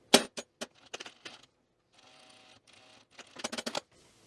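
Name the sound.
regular sewing machine stitching fabric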